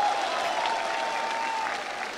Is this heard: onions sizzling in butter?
no